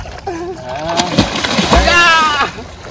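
A person wades and drops into clear river water in the Sundarbans, with several sloshing splashes close by while people talk and call out over it.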